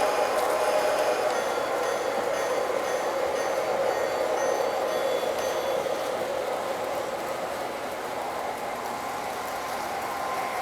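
A Lionel Santa Fe model train running on a home layout, giving off a steady continuous motor whir and rolling rumble that stays loud and even throughout, slightly easing toward the end.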